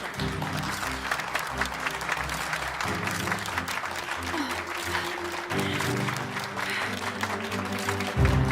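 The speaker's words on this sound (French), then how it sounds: "Mesdames et messieurs, veuillez applaudir chaleureusement" Sustained applause from an audience, a dense even patter of clapping throughout, with music playing underneath.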